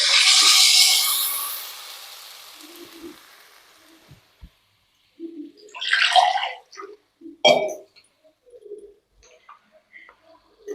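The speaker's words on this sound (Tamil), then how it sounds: "இப்போ பாருங்க கொஞ்சம் தண்ணி ஊற்றிட்டோம்." Water is poured into ground batter for a tomato water chutney, a bright splashing pour that swells early and tapers away over a couple of seconds. Quieter kitchen clinks and handling noises follow, with no talking.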